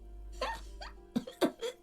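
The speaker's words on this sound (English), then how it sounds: "Cleaning lady starts laughing, but it turned into a violent coughing spasm." The cleaning lady in Disco Elysium coughs in a short, close series of harsh bursts, beginning with a few breathy catches and ending in several sharp, loud hacking coughs.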